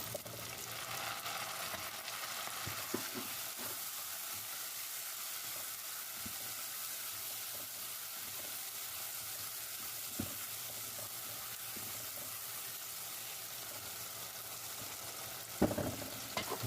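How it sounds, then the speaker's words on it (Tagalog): Chopped tomatoes frying in a pan for sarciadong isda, a steady soft sizzle running throughout with occasional sharp clinks and scrapes of stirring, the loudest near the end. "pwede natin ilagay ang chopped tomatoes."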